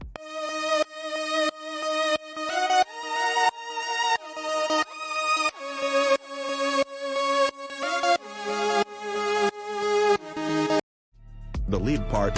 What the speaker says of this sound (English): For leads, I created a FX channel, added a reverb, delay and autoduck for sidechain.